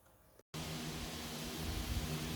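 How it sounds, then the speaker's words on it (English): Steady broadband whoosh of electric fans running close by, constant and even after a brief silent gap. "I'm sorry if you hear fans in the background"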